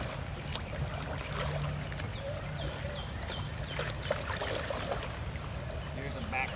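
Kayak paddle strokes dip and pull through water in a basic-stroke demonstration, heard as soft, faint splashes and swishes over a quiet outdoor background, with voices faintly present.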